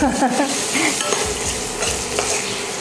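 Green chillies are stirred into sabudana upma frying in a pan, with loud close sizzling and repeated scraping strokes of a utensil against the pan.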